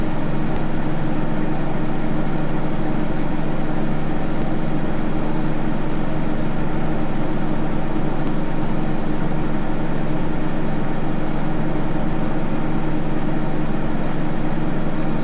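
Hot air rework station blowing steadily at medium heat and medium airflow over the CPU of an Oppo A5s phone board, a continuous even whoosh with no pauses.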